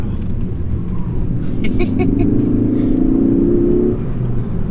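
A 2017 Ford Focus ST-3 engine pulls hard under acceleration, its rising drone climbing through the gears and dropping off near the end, heard from inside the car over steady road rumble.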